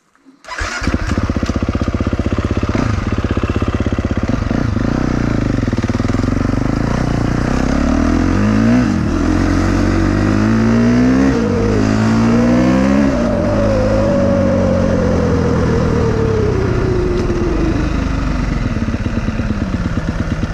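A 2021 KTM 350 XCF dirt bike on Dunlop MX53 tires rides a muddy, rocky, rooty trail, its loud close engine revving up and down in rising and falling surges throughout, with no voices.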